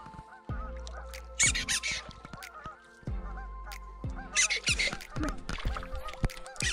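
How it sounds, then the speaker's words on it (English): Ducks at a lake honk loudly and repeatedly, overlapping in irregular bursts, with splashing and rustling close by. "What's the ducks one yelling in the background?"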